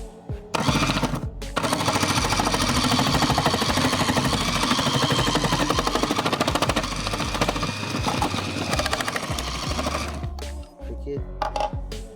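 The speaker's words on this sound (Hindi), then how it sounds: "बगैर रुके इसने गाजर को स्लाइसेस में तब्दील कर दिया।" Black + Decker PRMP1000 food processor on turbo slicing carrots, a loud continuous motor roar with rapid rattling chatter, starting after a brief pause and running steadily until it stops near the end.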